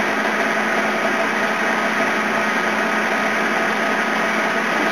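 A metal lathe fitted with a steady rest and center is switched on and runs with a constant, even motor hum and whine, close and moderately loud, with no talking.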